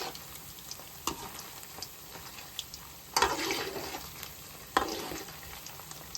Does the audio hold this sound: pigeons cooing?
no